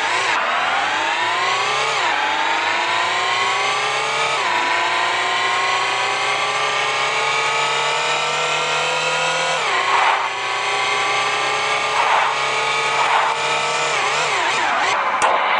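Race cars in a mobile racing video game roar continuously at high revs, with repeated gear-shift dips and rising engine pitch as cars are overtaken, loud and steady throughout with no talk.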